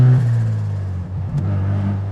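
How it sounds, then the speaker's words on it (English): A steady idle from a 1972 Mazda RX-3 Savanna with a turbocharged 13B rotary engine, with a quick rise in pitch midway, a short throttle blip before settling back to a low hum. "You can give it that little blip"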